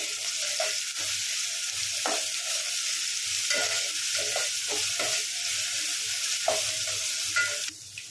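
Ginger garlic paste fries in a pan with a continuous hiss while a spoon scrapes and stirs it in regular strokes, close up and without talk.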